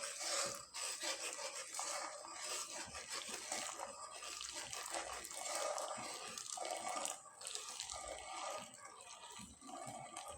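Thickened milk pours into mango paste in a continuous close-up wet splashing and trickling, with soft rubbing and dripping as it settles.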